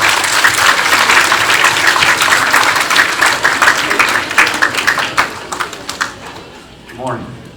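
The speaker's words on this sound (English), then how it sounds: "Would you please give a round of applause for Mr." A school event audience gives a round of applause, dense clapping that holds steady and then thins into scattered claps before fading, with a voice rising briefly at the end.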